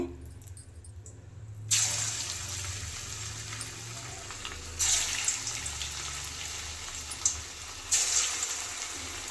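Marinated garlic chicken kebabs are dropped one by one into hot oil, each setting off a loud burst of sizzling over a softer steady fry, three bursts a few seconds apart.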